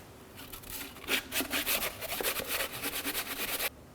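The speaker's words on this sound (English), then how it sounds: "let's continue on with a nice sanding block and some sandpaper and get this nice and cleaned up." A sanding block with sandpaper scrubs carbon off the gasket surface of a Ford Fusion engine, in rapid back-and-forth rasping strokes that are close and steady, then stop abruptly.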